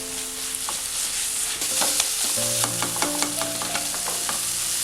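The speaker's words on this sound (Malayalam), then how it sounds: "ഇനി പൊടി ഒന്ന് മൂപ്പിച്ചെടുക്കണം" Turmeric, coriander and chilli powders roasting with onion in oil for a chicken roast, a steady close sizzle with scraping stir clicks and tonal utensil scrapes throughout, no talk.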